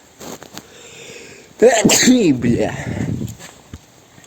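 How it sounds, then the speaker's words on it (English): A single sharp sneeze bursts out after a quiet moment, followed by a brief voiced exhale and sniffling close to the microphone, during work on a Belarus MTZ-52 tractor's starter engine. "I'm gonna sneeze."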